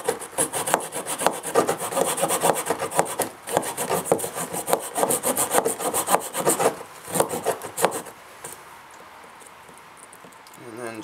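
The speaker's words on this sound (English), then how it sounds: "I'll just show you the rebar saw real fast." A Leatherman rebar saw cuts a notch in wood with quick, rhythmic rasping strokes up close. A voice talks over the sawing, which stops near the end and leaves quiet room sound.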